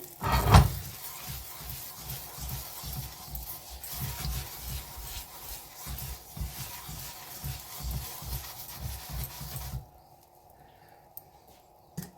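Steady, rhythmic rubbing and scraping as oil is worked into a new dosa pan, loud and close, with a sharp clatter at the start. The strokes go on for about ten seconds, then stop and leave near silence.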